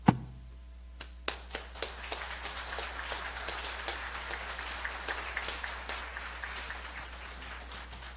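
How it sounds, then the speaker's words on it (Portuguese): A church congregation claps for the pastor, starting with a few sparse, separate claps that quickly thicken into light, moderately dense applause that carries on steadily. "ele merece realmente um pouco de aplauso"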